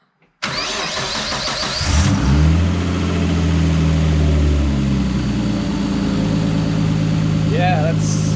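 A Nissan 240Z fitted with an RB25DET engine cranks and fires up nearby, settles into a steady idle, then gets a brief rev near the end while people talk over it.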